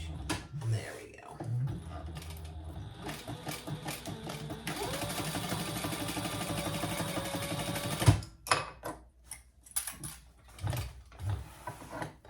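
Sewing machine stitching a fabric divided basket, running in a steady mechanical whir with short pauses and restarts as the work is turned and pivoted, fairly close, with brief talk in between.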